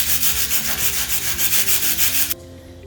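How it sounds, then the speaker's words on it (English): A regular handheld brush scrubs oxidation off aluminum in steady, rapid back-and-forth strokes, loud and close, then stops abruptly near the end. "I'm just gonna use regular handheld brush just to get all the oxidation out"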